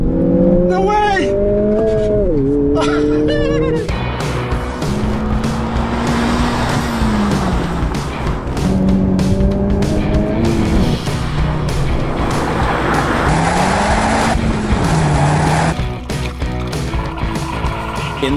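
A Honda Civic Type R accelerates hard, engine rising and falling through gear changes with brief tire squeal, loud and close throughout.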